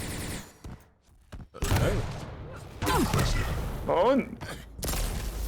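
In an arena shooter video game, rocket launcher fire lands in repeated booming blasts, mixed with other game effects under fast, excited commentary.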